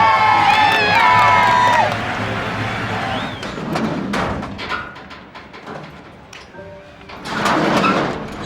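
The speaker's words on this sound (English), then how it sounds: "A big round of applause for Jeff, ladies and gentlemen." A crowd cheers and claps for a racing driver at a car-racing event. Loud shouts and whistles come first, then the noise settles into steadier clapping and cheering that swells again near the end.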